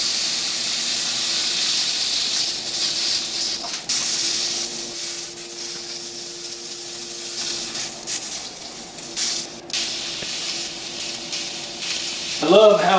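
A NY strip steak hisses and sizzles steadily in a hot cast iron skillet, a continuous close frying crackle with a brief voice near the end.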